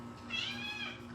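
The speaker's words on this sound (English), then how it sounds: "Oh my God, my cat." A pet cat gives a single drawn-out meow, rising and then falling, heard fairly close against a steady low background hum.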